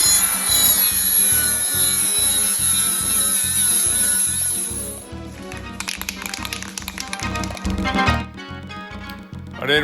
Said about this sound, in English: I had to cut a 3x1/2 inch relief into the heat shield